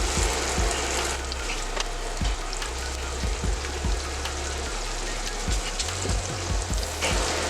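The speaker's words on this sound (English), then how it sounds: "You can hear that sizzle." Chicken wings fry in oil on a Steelmade griddle, giving a loud, close, continuous sizzle and crackle, with occasional low thumps and scraping as the wings are handled, and no talking.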